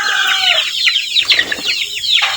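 Young chicks recently moved onto range, about a month or more old, cluck and peep continuously in a close, busy chorus of overlapping calls.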